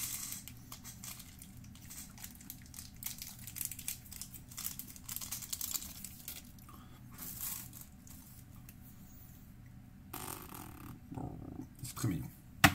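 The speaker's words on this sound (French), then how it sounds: "Le petit hamster bien cool, je vais le déballer." A packaged toy hamster unwrapped by hand, close crinkling and tearing of plastic packaging with rustles and light taps, louder handling near the end, no talking.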